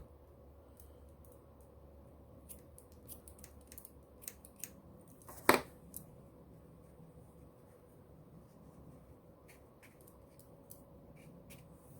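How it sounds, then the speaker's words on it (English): Scissors snip paper during a craft project making a rustic Santa from a toilet paper roll. Several small close cuts build to one sharp crisp snip midway, set against quiet room tone. "I'll cut this off."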